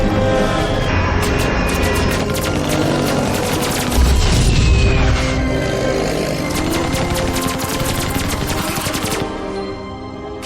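Dense bursts of rapid-fire gunfire shooting down airships in an animated sci-fi series, loud and continuous over booming impacts and a busy score, with no pause in the barrage.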